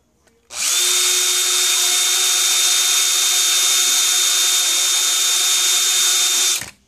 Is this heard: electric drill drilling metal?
yes